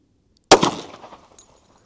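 A single loud gunshot from a Glock 10mm pistol, sharp and close, with a reverberant tail fading over about a second.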